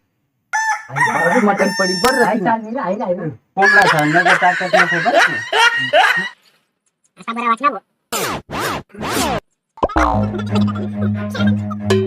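Loud chicken calls close by, harsh squawking cries coming in several bursts with short pauses between them.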